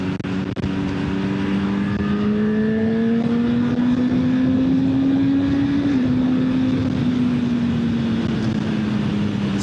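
A 2025 Honda CB1000 Hornet SP motorcycle engine revs up to 8000 rpm. Its loud, steady, close-up drone climbs slowly in pitch, then eases off slightly near the end, with no talking.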